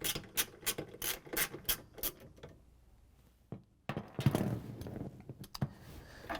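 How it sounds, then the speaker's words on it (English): A ratchet with a 3/8 inch socket and extension clicks in quick repeated bursts while backing bolts out of a GE washing machine transmission, pausing briefly before a rougher stretch of scraping and working noise. "use the 3/8 inch socket again with the ratchet and the extension to take off the bolts"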